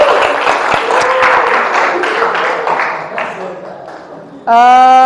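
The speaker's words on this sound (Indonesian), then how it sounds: "Aplaus untuk kita semua dulu, semuanya bagus." A class bursts into steady, lively clapping that holds for about four seconds and slowly fades, then a voice speaks loudly right after.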